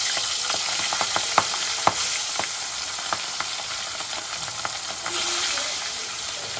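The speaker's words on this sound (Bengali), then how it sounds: "মাছটা ভেজে নেব" Fish frying in a pan at home, a steady close sizzle with scattered sharp pops and crackles of spitting oil running throughout.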